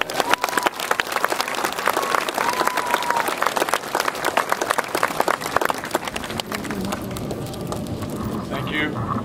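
Audience applause welcoming Judge Barton as commencement speaker at the HHS class of 2012 graduation, a dense, steady wash of many hands clapping throughout, loud and sustained, thinning slightly toward the end.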